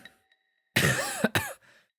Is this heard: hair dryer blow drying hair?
no